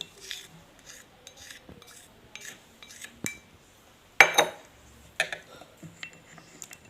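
A spoon stirs salt into water during a school science demonstration, making a run of light, intermittent clinks and scrapes against the container, with one sharper knock midway, close and fairly quiet.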